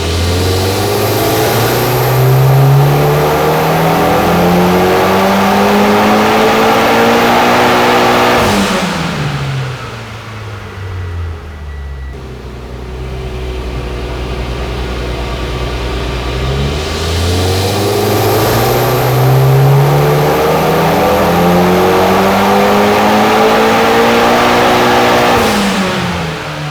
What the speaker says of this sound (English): So I just made 2 full throttle pulls.